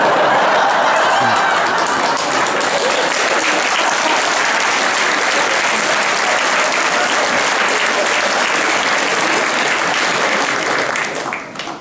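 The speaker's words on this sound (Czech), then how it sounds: "Děkuji, že jsme odměnili obraz potleskem" An amateur theatre audience gives a long, loud round of applause after a scene, many hands clapping in a thick, unbroken wash that holds steady for about eleven seconds before dropping away abruptly.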